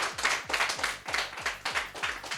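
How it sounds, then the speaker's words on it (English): Steady rhythmic clapping, about two to three claps per second, fairly close and lively, with a low thumping beat underneath and no voices. "So let's give a round of applause for Dnarwhal, everybody."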